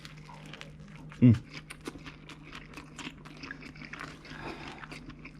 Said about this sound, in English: we've made tacos. You can see, like, you know, they got crispy outsides. You can hear them.